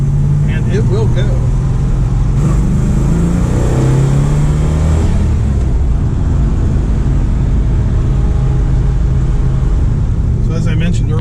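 A 1969 Dodge Superbee with a restored dual point distributor revs loudly up close, its deep engine roar rising and falling and staying heavy throughout.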